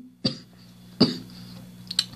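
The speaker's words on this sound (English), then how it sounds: "Sorry for coughing." Three sharp coughs come close to the microphone at even intervals, one after another, over a faint steady hum.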